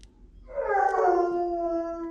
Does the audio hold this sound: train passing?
no